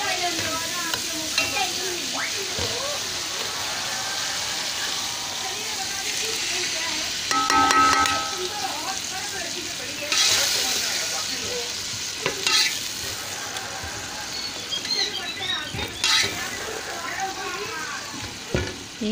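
Dry minced meat keema frying in a pan, with steady loud sizzling and hissing and frequent scraping, clattering stirs throughout, while a voice talks intermittently underneath.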